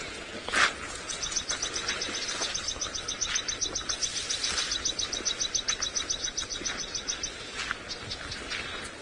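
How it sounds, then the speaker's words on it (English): Birds call in alarm during a sunrise safari drive at Xidulu, a rapid, insistent chattering that runs steadily for several seconds over an outdoor background with insects, moderately near. "Birds are not happy with something."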